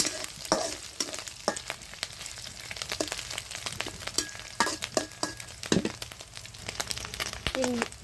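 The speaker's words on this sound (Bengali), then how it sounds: "চিংড়ি মাছগুলো ভেজে নিচ্ছি" Shrimp crackle and sizzle in hot oil, a steady frying hiss with frequent sharp pops and spits, close by.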